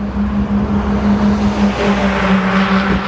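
A car driving past on a road in traffic, a loud, steady engine drone that swells and shifts in pitch as it goes by, close and alone.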